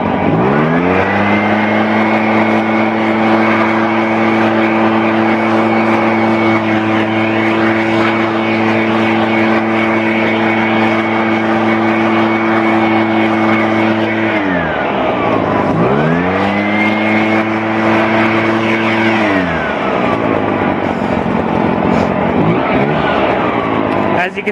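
An Echo PB-500T stratocharged backpack leaf blower runs loud and close, holding a steady high-revving drone, then dropping to idle around fifteen seconds before quickly revving back up to full throttle, clearing leaves off a trampoline.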